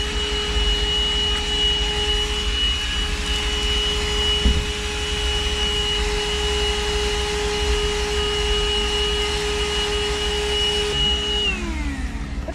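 A mini handheld vacuum cleaner runs loud and steady with a constant motor whine, then its pitch drops near the end as it winds down.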